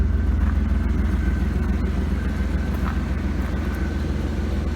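A 1998 Jeep Grand Cherokee Limited with a 5.2-liter V8 idles steadily with a low rumble, and its AC compressor engages to add a faint hum over the engine drone.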